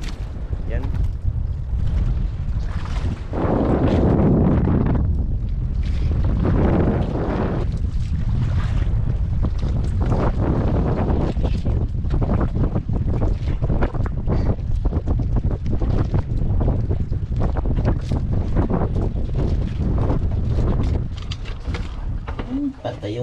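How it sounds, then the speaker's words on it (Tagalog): Strong wind gusts buffet the microphone outdoors on open water from a small fishing boat, a loud continuous roar with rumbling low end that runs throughout, with voices talking over it. "mahangin-hangin naman ulit"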